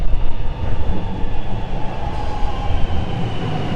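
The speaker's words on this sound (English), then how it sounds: "My train now has just arrived here at Parliament Station." A Melbourne train pulls into Parliament Station, its steady loud rumble and low rail noise continuous and close, with no talk over it.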